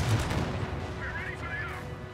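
Artillery fire and gunfire rumble in a Company of Heroes 2 battle, a dense ongoing barrage, with a few higher whistling tones partway through and a voice talking over it.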